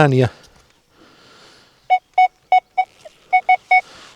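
A metal detector sweeping over a ploughed field beeps in a burst of about eight short, evenly spaced tones, clear and close, after a brief bit of speech at the start.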